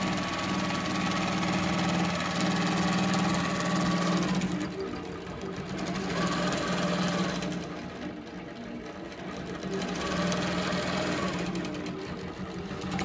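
An Innova classic long arm quilting machine hums as it stitches crosshatch lines on a quilt, its rapid rhythmic needle chatter running steadily and easing briefly in a few pauses, close and continuous.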